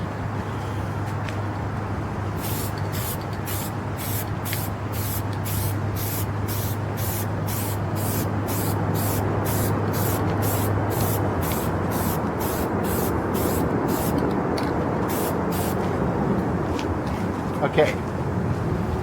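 Spray can applying Fiesta Red paint in light misting passes over a Telecaster guitar body, heard as a run of short, sharp hissing bursts with brief gaps, close and loud over a steady low hum.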